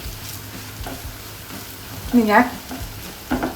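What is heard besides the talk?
curry leaves sizzling in hot oil while being stirred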